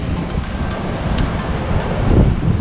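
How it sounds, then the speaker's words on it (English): Wind roars steadily with sea waves surging nearby on the French coast near a lighthouse, a broad rushing noise that swells slightly toward the end. "With the wind blowing"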